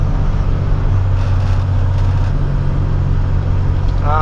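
A car travels the snowy Coquihalla highway at night, its cabin filled with a loud, steady low engine and road rumble that holds evenly throughout.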